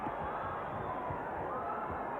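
A crowd at a heavyweight boxing bout in the Superbowl arena at Sun City, South Africa, a steady muffled roar of cheering and murmuring throughout, held at a moderate distance with no clear peaks.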